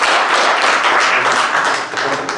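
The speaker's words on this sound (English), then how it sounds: "quite often we give people a round of applause to appreciate them being here" An audience at a casual startup meetup claps a brief round of applause, a dense, loud, even patter of many hands filling the whole moment without voices.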